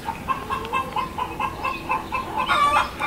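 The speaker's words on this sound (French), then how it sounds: "je crois qu'il y a une poule qui a fait l'œuf" A hen cackles after laying an egg, a steady, rhythmic run of clucks rising into a louder, excited burst near the end, with faint farmyard background.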